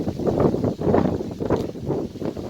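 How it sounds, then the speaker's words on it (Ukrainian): Steady wind buffeting a microphone outdoors, a continuous low rumbling roar with gusts that swell and ease. "дивіться, які вітер"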